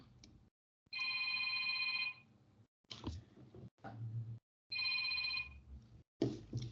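A telephone rings during a calculus class, two clear bursts of electronic bell-like ringing separated by pauses. Brief soft knocks and room noises fill the gaps, and the ringing sounds moderately close but modest in level.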